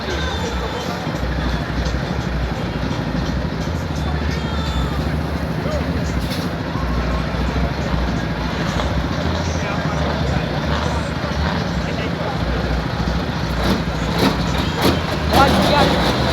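A big truck engine idles at a truck show, a steady loud low rumble throughout with crowd chatter and voices mixed in and a few sharper bursts near the end.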